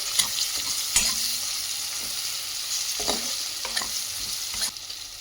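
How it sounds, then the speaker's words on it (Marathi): Sesame seeds sautéed with onions in a pan for a vegetable dish, a soft continuous sizzle close by, broken by occasional louder scraping strokes of a stirring spoon. "तीळ घालायचे, ते चांगले असे कांद्यामध्ये चांगले परतवून घ्यायचे"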